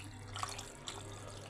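Soup poured into a pot of stuffed vegetables gives a steady, soft watery rush running throughout, with a couple of faint splashes, close by and alone.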